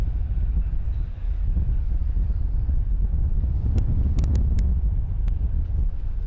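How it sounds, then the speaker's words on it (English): Steady low wind rumble buffets the microphone outdoors on Lake Washington in Seattle, with a few sharp clicks partway through. "It's quite windy out here."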